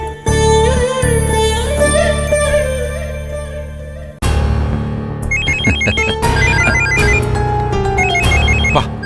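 A mobile phone plays a loud musical ringtone for an incoming call, with repeating electronic melody phrases that carry on for several seconds and no voices over them.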